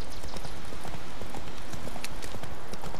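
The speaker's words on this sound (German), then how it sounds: "wer galoppiert nicht gerne quer durch den Wald?" Horse galloping through a forest in The Witcher 3, a fast, close, rhythmic drumming of hooves on soft ground that keeps a steady beat throughout, with a faint voice briefly under it.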